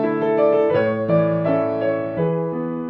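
A piano passage played with the sustain pedal, notes ringing into one another, chords blending smoothly with a sustained, resonant wash.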